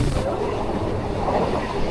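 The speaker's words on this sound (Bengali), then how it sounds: "তো ট্রেন আমাদের ছেড়ে দিল, এখন যাচ্ছি রানাঘাট।" Local train running from Gangnapur toward Ranaghat, a steady, loud rumble of wheels and carriages that holds at an even level throughout, with no voices.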